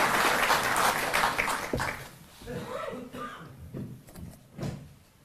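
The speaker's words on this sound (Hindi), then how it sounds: "एक बार जोरदार तालियों से आप सर का अभिनंदन।" Applause from an audience at a Delhi government event for farmers whose crops were damaged, a broad dense clapping burst in the first two seconds that fades into a quieter hall as talk begins.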